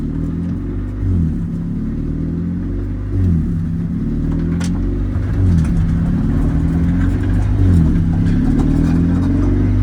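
A DirtX CRX race car rolls into town at low speed, its engine giving a steady, close, loud droning rumble with gentle rises and falls in revs throughout.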